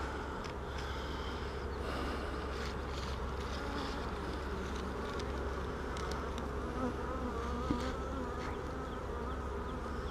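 Honey bees buzz around an open hive holding brood, a dense, continuous drone close by throughout, with a brief spoken word.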